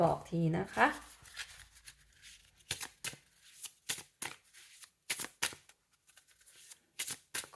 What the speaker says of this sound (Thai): เปิดไพ่ออร์เกิลอีกสำรับหนึ่งนะคะให้คุณเนาะ